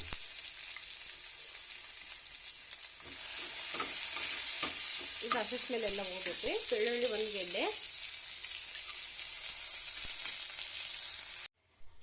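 Onion and garlic fry in hot oil for tempering alongside curry leaves, a steady close sizzle and hiss. Someone talks briefly over it, and the sound cuts off abruptly at the end.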